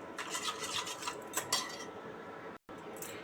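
A spoon working through ground chilli, salt, sugar and mustard oil in a bowl, giving quick clinking and scraping against the bowl for a few seconds, close and fairly bright, with a brief dropout near the end.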